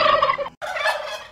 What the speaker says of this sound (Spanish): Vamos a oír cómo hace el guajolote.